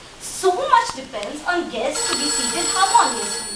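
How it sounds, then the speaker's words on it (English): A doorbell rings in a bright, bell-like tone partway through, heard under a woman's continuous speech indoors. "That's the doorbell."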